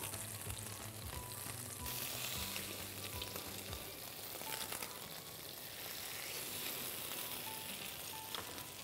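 Pain perdu made from brioche frying gently in butter in a pan, a steady close sizzle and crackle running without pause, with faint clinks from the pan and no talking.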